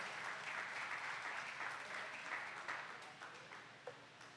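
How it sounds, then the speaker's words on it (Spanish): A church congregation applauds together, a full, even wash of many hands clapping that stays strong throughout and thins slightly near the end. "Denle ese aplauso a Jesucristo el Señor."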